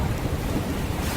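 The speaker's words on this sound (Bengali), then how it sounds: "তারপরই শুরু হলো তুমুল ঝড় বৃষ্টি।" A thunderstorm with heavy rain and wind as a sound effect: a loud, dense roar of rainfall and low rumbling, unbroken from start to end with no voices.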